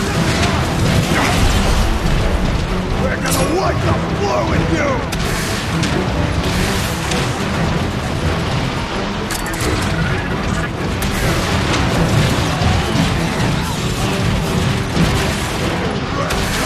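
Warp cannon artillery shelling a plaza in the Transformers: Fall of Cybertron video game, heavy booms and crashing impacts rolling continuously through dense battle noise, with a shouted voice over the chaos.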